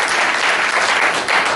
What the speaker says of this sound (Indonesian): beri tepuk tangan bagi Devi.